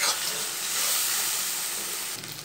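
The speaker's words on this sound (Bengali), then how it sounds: "এখন আমি কালো জিরে ফোড়ন দিয়ে দিলাম, পেঁয়াজ কুচানো, কাঁচা লঙ্কা কুচানো।" Nigella seeds, chopped onion and green chilli sizzle hard in hot oil, a loud, steady broadband hiss that holds for a couple of seconds before easing slightly at the end.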